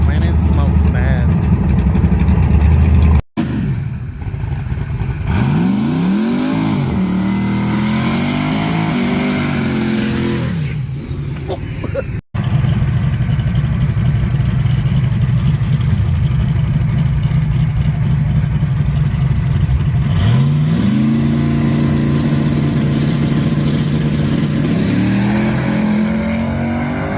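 A turbocharged drag car makes a run at Kentucky Dragway with a turbo that smokes badly. Its engine revs in loud, rising sweeps with short breaks, and people talk over the roar.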